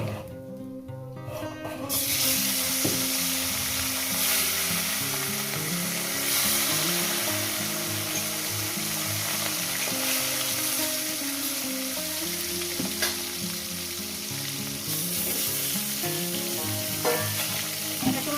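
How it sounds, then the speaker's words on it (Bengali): Rohu fish pieces frying in hot oil give a steady, close, dense sizzle that holds for the whole stretch after a brief quieter start, with occasional faint clinks and scrapes from the pan and no talking. "মাছগুলো ভেজে নিয়ে দিচ্ছি"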